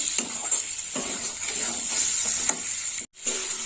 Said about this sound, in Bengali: দিয়ে দিলাম টমেটো টমেটো দেওয়ার পরেও একটু কষে নেব ভালো করে নাড়িয়ে চালিয়ে নেব